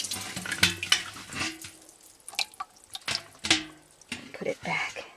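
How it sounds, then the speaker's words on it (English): Water from a rain-catching bucket splashes out in uneven gushes and drips outdoors, close and fairly loud, with a voice talking over parts of it. "pour that water"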